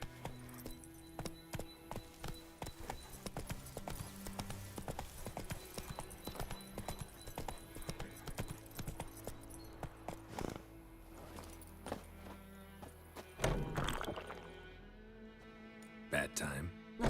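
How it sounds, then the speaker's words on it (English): A horse in the video game The Witcher 3 runs with steady, quick clip-clop hoofbeats continuing throughout, the rhythm briefly broken by a louder thud near the end. "Run, Roach."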